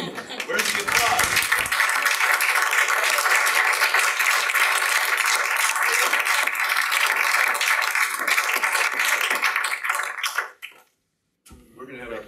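A room at a school board committee meeting breaks into sustained applause for about ten seconds, with voices mixed in, before it cuts off abruptly into silence.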